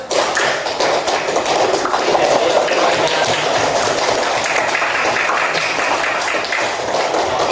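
A classroom of Indonesian schoolchildren claps steadily and loudly without pause, a dense, continuous patter of many hands filling the room for several seconds.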